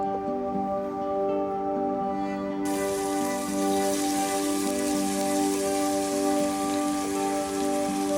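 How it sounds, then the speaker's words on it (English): Diced onion sautés in hot oil in a pan, a dense, even sizzle like steady rain that swells louder partway through and then holds without a break. "In a pan, add some oil. Saute some diced onion until it's translucent."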